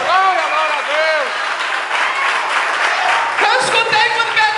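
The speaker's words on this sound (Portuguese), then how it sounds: "aplauda mais forte que é o Filho de Deus" A church congregation claps steadily throughout a worship service, the applause running under a loud voice and sung, musical tones.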